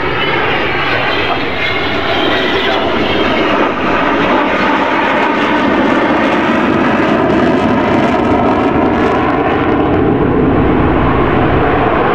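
A loud, continuous jet engine roar from an Avro Vulcan bomber, XH558, passing overhead at the Farnborough International Airshow, a dense sustained rumble with shifting tones that stays strong throughout.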